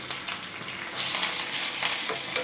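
Dried red chillies, cumin seeds, curry leaves and asafoetida sizzle in hot oil for a chutney tempering, a loud close crackle that jumps up after a moment and keeps hissing and spitting steadily.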